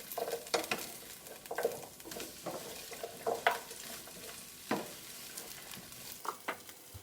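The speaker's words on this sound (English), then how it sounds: "And now we're going to give a good stir." Vegetables stir-fried in a pan with garlic paste, giving steady close sizzling and scraping with irregular louder stirring strokes throughout, no voices.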